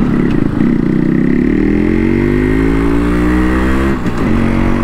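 A Yamaha RX100 motorcycle fitted with an aftermarket exhaust muffler revs up loud and close, its engine note climbing steadily. It dips briefly near the end and then picks up again, with no talk over it.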